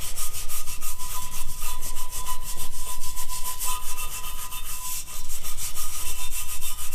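A lower intake manifold from a Gen 5 M90 swap is scrubbed by hand with a brush: steady, rapid, close rasping strokes in an even back-and-forth rhythm, with no talking.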